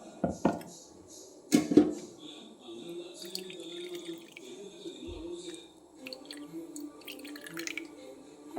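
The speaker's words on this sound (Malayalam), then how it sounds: "അപ്പോൾ ഇതേ നമ്മുടെ ജ്യൂസ് മുഴുവൻ താഴോട്ട് വീഴുന്നുണ്ട്." Strained homemade juice, ground with little water, dripping down into a container: scattered soft drips and small splashes, close but fairly quiet, with a few louder spatters near the start.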